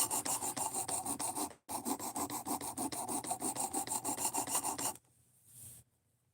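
A blade is rubbed in quick, even back-and-forth strokes across a Precision Adjust sharpening stone clogged with steel, a loud rasping scrape with one short pause, then fading to faint scraping before silence.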